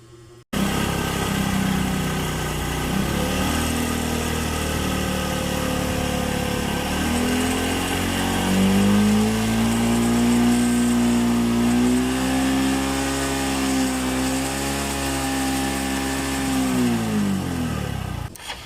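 A Honda Wave 110 motorcycle engine, rewired to full-wave charging, idles steadily, then revs up and holds a higher hum before settling, running continuously and close by.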